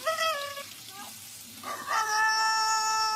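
A rooster crows in a cartoon, its harmonic call rising in two bursts split by a short pause, close and loud.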